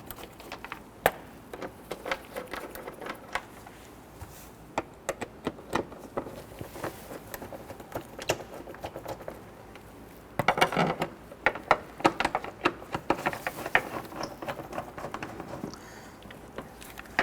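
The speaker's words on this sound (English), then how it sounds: "we're going to use our extension here to go ahead and get all of these screws started" Screws on a rear brake hose bracket of a 2006-2014 Honda Ridgeline being started with a socket on an extension, giving rapid, faint ratchet-like clicking and metallic ticks throughout, busier near the end.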